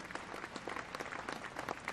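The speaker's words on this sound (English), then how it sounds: "we got to give a big applause" Spectators at a Jarrell Cougars versus Navarro Panthers high school football game applaud, a faint, distant patter of crowd clapping lasting a couple of seconds with no voices over it.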